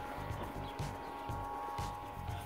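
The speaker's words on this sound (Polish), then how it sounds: "Hydrofor chodzi, słychać." A hydrophore pressure pump for a home well runs steadily close by, a constant mechanical hum with a rhythmic low pulsing.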